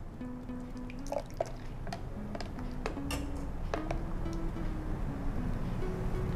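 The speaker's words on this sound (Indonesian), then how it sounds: "Ya, kita aduk dulu biar buihnya berkurang ya." Peach gum pudding mixture being stirred to settle its foam, giving soft, sparse dripping and light liquid ticks at irregular intervals, quiet and close with a steady low background hum.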